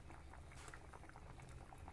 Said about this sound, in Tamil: நல்லா கொதிக்கிடும்.